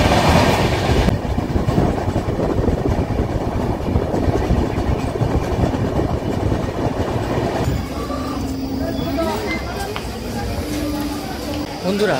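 A passenger train runs on its rails toward Jhargram station with a loud, steady rumble and clickety-clack of wheels, then the rolling eases toward the end.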